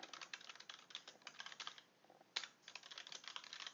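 Quick, soft keystrokes on a computer keyboard, heard close and alone with a short pause midway and then a louder key press before typing resumes.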